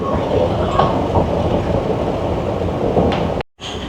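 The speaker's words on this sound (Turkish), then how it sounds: "Dostlar e, metronun içindeyim." Steady rumble of a Dubai Metro train heard from inside the carriage, a continuous close wash of rail and cabin noise, briefly cut out near the end before resuming.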